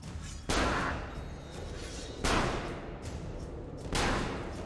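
Three booming gunshots in Assassin's Creed Brotherhood, each a loud, broad blast followed by a long rumbling decay, spaced a couple of seconds apart with no talk over them.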